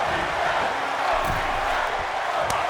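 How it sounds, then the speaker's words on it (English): Arena crowd in the WWE 2K wrestling video game, a steady broad roar of many voices chanting throughout, fairly loud and continuous with no speech on top. "And you can hear the crowd chanting both these guys."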